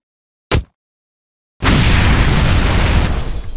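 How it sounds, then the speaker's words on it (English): A cartoon grenade goes off in a loud, close burst: a short pop, a second of silence, then a big roaring explosion that rumbles and sustains to the end, with no talking. "I got 3 grenades with your names on it."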